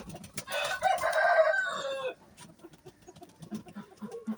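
A rooster crows once, loud and close, for about two seconds, followed by softer clucking and scratching sounds from nearby fowl.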